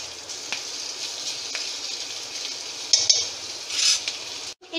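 Mashed potatoes are stirred into frying spices such as coriander powder in a pan, giving a soft continuous sizzle with scraping stir strokes and a couple of brighter utensil clinks near the end.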